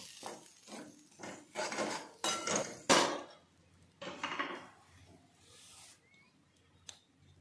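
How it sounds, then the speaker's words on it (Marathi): Grated coconut is stirred in a pan over a low flame, giving a run of close, scraping spatula strokes in short rhythmic bursts that fade into quieter rustles. "पाच 10 मिनिटांमध्ये आपण छान फ्राय करून घेऊया। कमी गॅसवर करायचा आहे"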